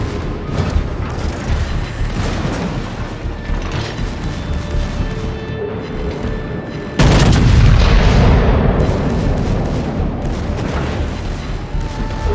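Main guns of the warship Pommern firing in a naval video game, heavy booming blasts over a constant low rumble, with a loud, close salvo surging about halfway through.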